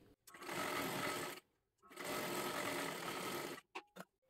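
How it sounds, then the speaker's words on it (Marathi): A sewing machine stitches the lining of a blouse sleeve in two long continuous runs separated by a short pause, followed by a few brief stop-start bursts at the end. "अशाच पद्धतीने आपल्याला पूर्ण शिलाई मारत घ्यायची आहे."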